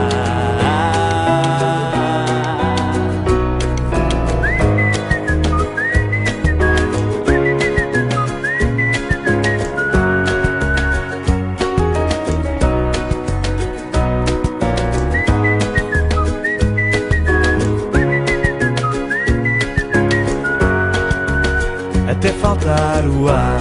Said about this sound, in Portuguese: assobiar.